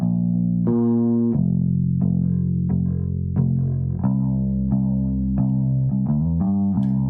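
A bass guitar with no EQ plays a run of sustained notes with a raw, boomy, unshaped tone, each pluck ringing into the next, alone and fairly loud.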